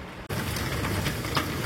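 Rain and hail pelting the roof of a camper van, a dense continuous patter heard from inside, fairly loud and without talk.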